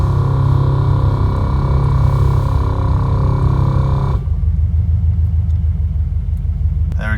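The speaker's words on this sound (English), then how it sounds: "And that's the compressors in the back." Airlift Performance 3P air suspension compressors on a bagged 86 run with a loud, steady droning whir that drops sharply partway through, leaving a lower rumble, with no talk.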